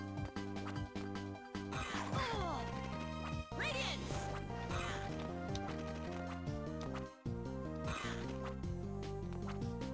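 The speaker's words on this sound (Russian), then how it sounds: "Почему он задает звуки гуся?" A few goose honks from Castlevania: Order of Ecclesia on the Nintendo DS, rising in short bursts over loud, continuous game music that stays dense throughout.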